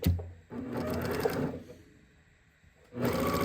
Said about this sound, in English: So I'll come to my machine and just stitch down each side of that.